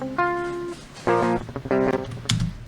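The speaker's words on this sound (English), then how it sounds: "if you've never heard a raw DI guitar, it sounds pretty weird and maybe not what you would expect" Clean, undistorted electric guitar played straight through a DI with no amp, a few plucked notes and short chord stabs, dry and thin, loud and close with brief gaps between phrases.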